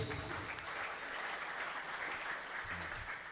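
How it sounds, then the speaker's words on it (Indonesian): Applause for a newly elected chairman at an Ansor branch leadership election in Kranggan, Temanggung: a dense, steady clapping crowd that holds at an even level throughout, with no one speaking over it. "Kasih aplaus untuk ketua terpilih"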